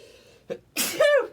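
A short sharp inhale followed by one loud, explosive sneeze, close and clear against a quiet background.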